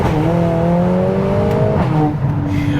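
A 500 bhp Mercedes-AMG A45S engine revs loudly while driving, its tone climbing steadily before dropping sharply at a shift and settling into a lower drone, heard close from inside.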